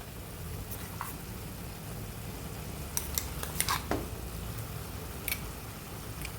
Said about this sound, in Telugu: కారం వేసుకున్న తర్వాత ఇలా మొత్తం మిక్స్ చేసుకోవాలి.